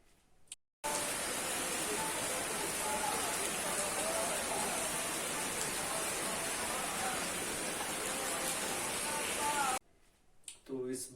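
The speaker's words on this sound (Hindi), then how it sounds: "तब तो बहुत ज्यादा तेज बारिश स्टार्ट हो चुकी थी" Heavy rain at the Red Fort in Delhi pours steadily in a dense, loud hiss for several seconds, cutting in and out abruptly at the start and end.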